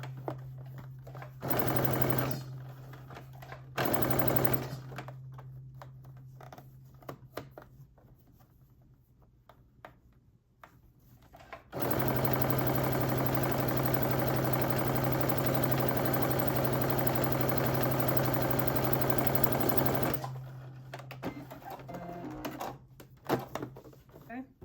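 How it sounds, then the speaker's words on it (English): A sewing machine edge-stitches a sweatsuit cuff around the wrist, running in two short bursts and then one long steady run of about eight seconds, close and fairly loud, with quieter handling noises between and a voice talking. "Start at your side seam and stitch all the way around."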